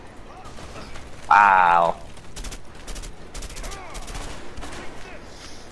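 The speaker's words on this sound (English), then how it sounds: "Dude, where is this guy shooting me from?" Gunfire from a co-op prison-escape video game, A Way Out: a burst of rapid shots cuts through continuous game noise, with a short strong blast near the start and scattered reports after, while a player briefly cries out.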